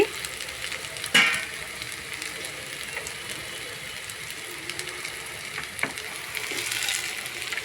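Something sizzles in oil in a kadai while a tomato roti pachadi is made, a soft steady crackle with a couple of sharp clinks from a utensil against the pan.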